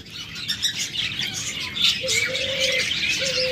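Busy twittering and chirping from small rainbow budgerigars, with a short whistled note near the end, steady and close with no voices.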